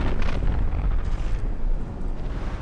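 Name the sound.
big explosions in a battleship video game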